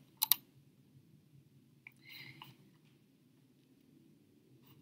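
Two sharp computer mouse clicks close together are heard, followed by a couple of softer clicks, while joining a Google Hangouts Meet, all over a quiet low background hum.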